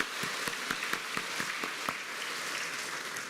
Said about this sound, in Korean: 꿈을 주신 하나님께 영광의 박수 올려드리겠습니다